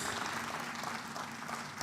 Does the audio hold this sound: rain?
no